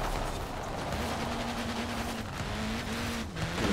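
Steady car engine drone with a rally gearbox whine in the Forza Horizon 4 racing game, heard continuously with faint tonal shifts as gears change, fairly quiet and without talk.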